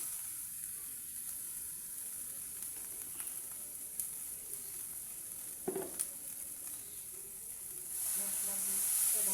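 Spices with Kashmiri chili fry in a pan for a soybean and potato dum, giving a steady, moderately loud hiss with a few faint clinks and stirring touches and a brief louder burst near the end.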